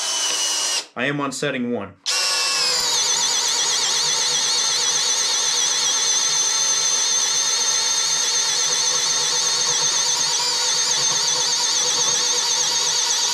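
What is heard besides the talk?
Greenworks power drill with standard paddle bit drilling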